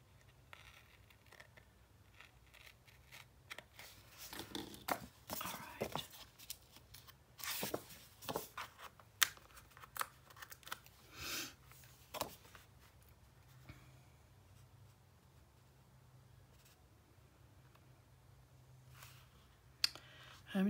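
Paper being trimmed for a Graphic 45 Merry and Bright 9 x 9 mini album page: quiet, scattered snips, clicks and light tearing rustles in irregular bursts, close up and soft throughout.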